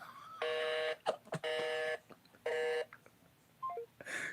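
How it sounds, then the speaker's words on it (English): Telephone dialing tones while calling a senator's office, several distinct steady beeping tones of about half a second each separated by short gaps, followed by a quick descending run of short beeps, with brief voice fragments between. "Let's call Senator Joanne Benson"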